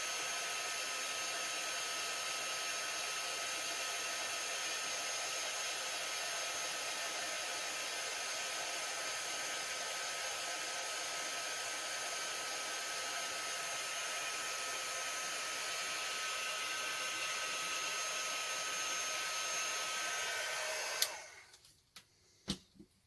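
A heat gun blows steadily for about twenty seconds, melting embossing powder onto jesmonite pendants. The loud, even hiss and whir runs without a break, then cuts off and is followed by a few light knocks.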